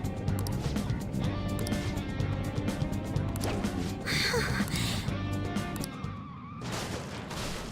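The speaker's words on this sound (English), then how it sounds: "And he crashed." A car crashes in a video game: a dense, noisy stretch of engine roar, impacts and scraping with a louder smash burst midway, over steady game music and sound effects.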